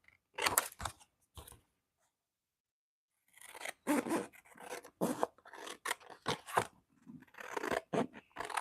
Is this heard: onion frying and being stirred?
no